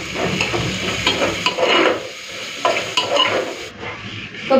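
Ginger paste and dry chilli paste go into frying onion and garlic in a pan, giving a close sizzle that is broken by irregular stirring scrapes and clinks of the utensil.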